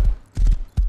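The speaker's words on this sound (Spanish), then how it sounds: "Te voy a poner caballo en la puerta." Horse hooves clip-clop in the video game Rust, with a few quick, close, solid hoof thuds in a short, uneven gait.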